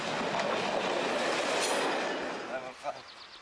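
A class 228 diesel locomotive train running in Thuringia in 1995, a loud, broad rumble with rail clatter that fades toward the end, with faint voices audible.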